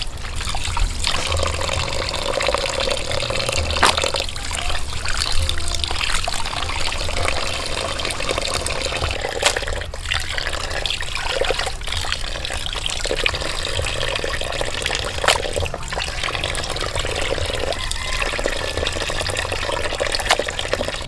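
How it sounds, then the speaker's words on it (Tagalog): Water running and splashing steadily as pork is rinsed for outdoor cooking, a continuous close trickle and pour with occasional louder splashes. "Hugasan natin ang mabuti mga studio."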